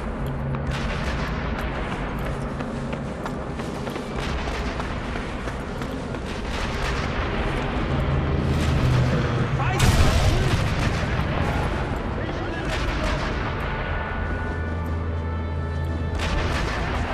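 Cannon fire in the video game Sniper Elite V2 booms amid a dense, continuous barrage of gunfire and explosions, with one heavier blast near the middle standing out over the loud battle noise.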